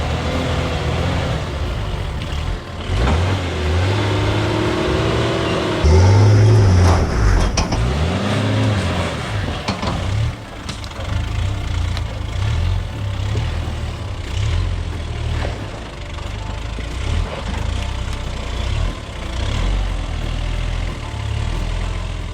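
An off-road truck engine revs hard and roars loudly for about twenty seconds while trying for traction over a rock ledge. It rises and falls in repeated surges, with no talk.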